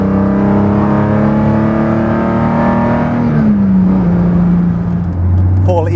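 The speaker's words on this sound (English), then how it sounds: "this car's pipes are too noisy, but you know, I beg to differ" Eagle E-Type Low Drag GT engine and exhaust pipes: a loud, close, steady droning note that holds, then dips in pitch as the car eases off, with someone speaking over it near the end.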